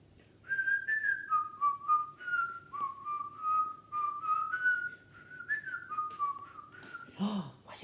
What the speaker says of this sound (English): There he is, look, he's whistling